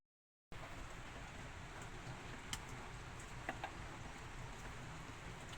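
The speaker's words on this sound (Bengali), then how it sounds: "এদিকে এখনও বৃষ্টি থামছেই না, কন্টিনিউয়াস রাত থেকে বৃষ্টি পড়ে যাচ্ছে সত্যিকারে" Continuous rain falls steadily after a night of downpour, a soft even hiss with a few faint tapping drops and ticks scattered through it, fairly quiet and without voices.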